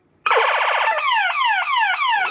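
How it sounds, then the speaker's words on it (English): A loud vintage bump-and-go toy police car siren kicks in suddenly, warbling fast, then switches to a slower repeating wail that sweeps downward again and again. "gotta turn the siren on."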